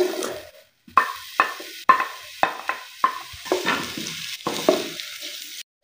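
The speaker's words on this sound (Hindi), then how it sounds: "मैंने जो 2 अदद प्याज डाली है, क्योंकि हमारा घी गर्म हो चुका है, अब इसको करेंगे जी हल्का हल्का फ्राई" Sliced onions fried in hot ghee in a pan, with repeated stirring strokes over a steady sizzle, each scrape bursting and fading, close and fairly loud.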